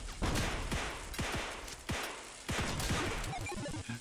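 Rapid bursts of video game gunfire in a bullet-hell game in quick succession over a dense, noisy backdrop, loud and close, with a few brief pauses between volleys.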